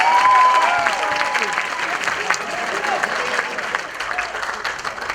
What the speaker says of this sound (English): can we please just have another round of applause for that exceptional performance?